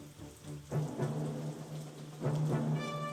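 Steady rainfall during a battle in the Banner of the Maid video game, a continuous hiss of rain with a low tonal hum and a few soft thumps beneath it.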